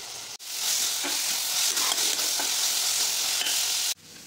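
Ridge gourd peel fries in a couple of spoons of hot oil, a steady broadband sizzle that starts abruptly, holds loud and even with faint stirring scrapes for several seconds, then cuts off.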